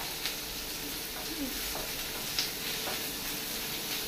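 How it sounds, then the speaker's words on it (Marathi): Prawns for chilli prawns frying over high heat in a pan, a continuous close sizzle and hiss with occasional faint stirring clicks. "बरें हेका फ्राय करून घेवपाचें, हाय हिटाचेर करपाचें"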